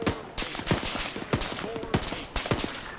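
Rapid bursts of gunfire in the video game Arma 3, set in a Second Korean War scenario, with repeated sharp volleys and cracks arriving in clusters across the span, some near and loud, others more distant.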